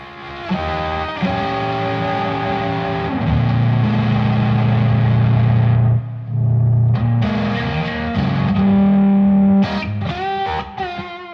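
An electric guitar through a germanium boost plays fuzzy, saturated sustained chords and low notes, buzzy and thick, then choppier stabs near the end.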